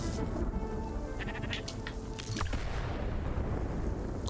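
Sheep bleat in the Spiritfarer video game during a lightning storm, several calls sounding over steady rumbling game ambience with a sharp crash partway through.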